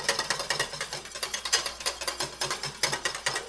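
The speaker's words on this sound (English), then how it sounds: "we're just gonna keep on with the whisk here on the stove for approximately 5 minutes" A whisk beats eggnog mixture in a pot on the stove with fast, steady rhythmic clicks and scrapes against the metal, close and alone, continuing evenly throughout.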